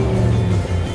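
Traffic on a nearby major road roars steadily and loudly, a dense low rumble of passing vehicles filling the brief moment without any voices.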